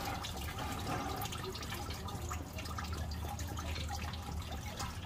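Coolant from a Honda engine draining into a catch bucket, a steady splashing trickle with faint drips, continuous and moderately close.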